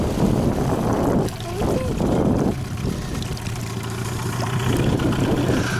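A 9.9 hp outboard motor, Suzuki or Yamaha, runs on a small boat during a pulling-power test, giving a steady low drone under heavy wind buffeting on the microphone, with voices talking at times.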